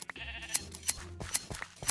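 Minecraft sheep bleating repeatedly in short nasal calls over a survival multiplayer server scene during shearing, several overlapping bleats with sharp clicks, close and clear with no talking.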